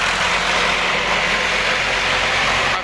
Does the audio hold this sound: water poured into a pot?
no